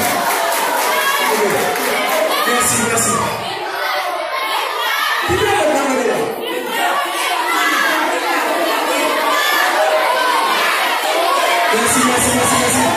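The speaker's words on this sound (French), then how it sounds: "Bonne réponse. On applaudit." A quiz show audience at a televised knowledge competition final cheers and shouts loudly for the whole stretch, with children's voices prominent in the dense crowd noise and a few spoken words mixed in.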